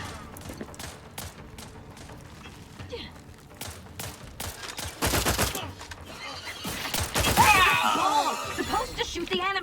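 Gunfire in the video game The Outer Worlds 2, bursts of shots and impacts scattered through game effects, growing louder and denser toward the end, with speech in places.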